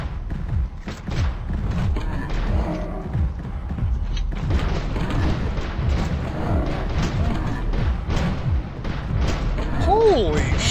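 Repeated booming grenade explosions and thuds from a first-person shooter video game, dense and loud, mixed with game gunfire, with no talking.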